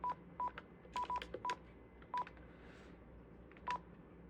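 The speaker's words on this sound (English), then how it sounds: "So yeah, I'm gonna call the SBC phone." Keypad tones from a ShoreTel IP480 IP phone: a series of short, separate dialing beeps in an irregular rhythm, clear but fairly quiet over low background hum.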